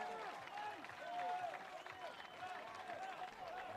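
Steady applause and cheering from a crowd at a beach tennis match, with whistles rising over the clapping throughout.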